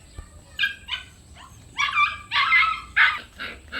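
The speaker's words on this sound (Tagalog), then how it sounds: "Tapos sumusunod yung dalawang tuta." Two puppies bark and whimper in a string of short, close yips and whines that come in uneven bursts, with brief pauses between them and no talking.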